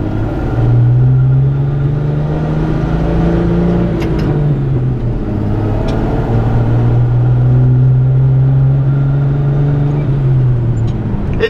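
A truck engine with a freshly rebuilt GM Rochester Monojet carburetor runs loud and close, its steady rumble rising and falling through several gentle revs.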